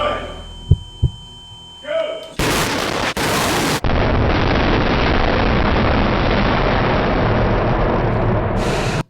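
An on-set explosion special effect during filming of The Chosen Season 5 bursts with a sudden loud blast after a few low thumps, then gives way to a sustained, dense roaring rumble that cuts off abruptly.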